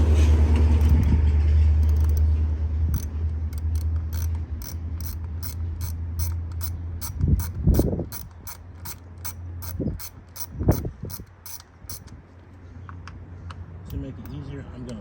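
A ratchet loosens a coil pack bolt on a Dodge Charger 3.6 V6 engine, a rapid run of sharp clicking pawl strokes up close, with clunks of tool handling mixed in.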